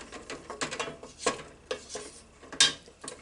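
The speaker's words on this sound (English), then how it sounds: "So we've got that in there now, and we're stirring it up" Spoon stirring a pot of Indian-style vegetable curry with lentils and black-eyed peas, a few soft scraping and clinking strokes at irregular intervals, quiet and close.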